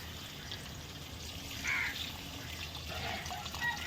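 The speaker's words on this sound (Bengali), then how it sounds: "তো তারপরে আমরা জল দিয়ে দেবো, জল অ্যাড করে দেবো।" Water is poured into a pan of village-style chicken skin curry, making a soft, faint splashing trickle that swells briefly near the middle and again toward the end.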